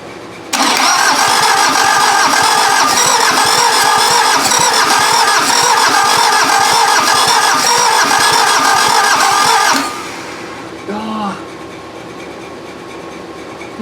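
A VW diesel engine swapped into an offroad Mazda cranks and fires, then roars loudly and steadily at close range for several seconds before cutting out abruptly, followed by quieter mechanical noises.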